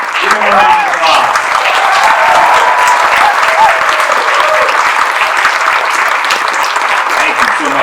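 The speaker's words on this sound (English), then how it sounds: "Give him a round of applause." Loud, sustained audience applause fills a talent showcase hall after a violin performance, steady dense clapping with crowd cheers and voices mixed in throughout.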